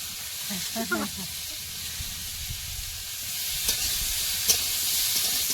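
Vegetables frying in a pan for a fish curry with prawns, Malabar spinach and papaya, a steady hissing sizzle throughout with a brief voice early on and occasional light clicks.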